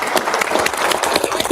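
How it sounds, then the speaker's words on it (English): An audience at an ACAP Indy Metro North community meeting on scam and fraud prevention gives a brief round of applause, a dense patter of clapping hands, fairly close and steady throughout. "So give them a little round of applause."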